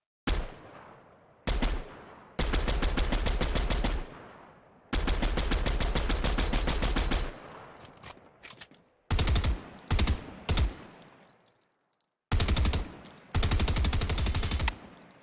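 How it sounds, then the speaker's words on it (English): Combat SMG firing in Fortnite, loud rapid automatic bursts of varying length separated by short pauses, with a few single shots between sustained volleys. "This little combat SMG is tough to control that first initial recoil."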